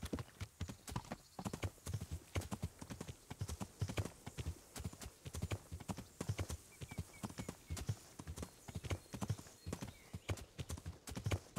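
A riding horse's hooves clip-clop continuously in the medieval game Kingdom Come: Deliverance, a dense, steady trotting rhythm of near hoofbeats lasting throughout, alone without speech.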